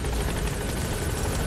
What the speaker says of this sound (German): So, da wo ich stehe, da lasse ich den Hubschrauber landen.